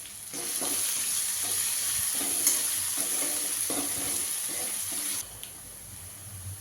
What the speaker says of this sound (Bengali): কাঁচা লঙ্কা কুচি এটাও দু চামচ মতো দিয়ে দিচ্ছি এটাকে ভালো করে ফ্রাই করতে হবে এখন